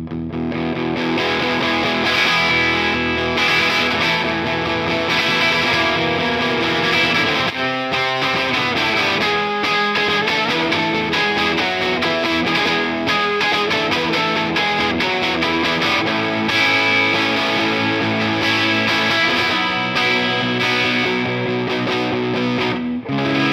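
An electric guitar played through a Stone Age Fuzz pedal, giving a continuous, loud, thick fuzz-distorted tone with sustained chords and riffs that run without a break. No speech is present.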